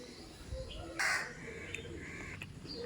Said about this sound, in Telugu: ఇంకో కాకి మాత్రం ముందు ఇది అడిగాక అది వస్తుంది